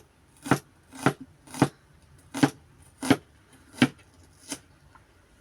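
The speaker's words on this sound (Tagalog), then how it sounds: "Ngayon hiwain na natin ang sibuyas." A knife chopping onion on a board, seven separate, evenly spaced cuts that land close and clear against a quiet background.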